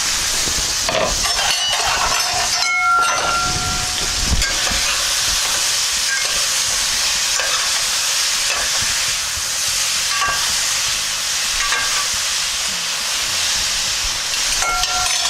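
Beef stir fry sizzles in a pan after about eight minutes of cooking, a constant bright hiss with occasional stirring scrapes and clinks throughout, up close.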